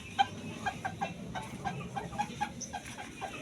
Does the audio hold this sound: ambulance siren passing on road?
no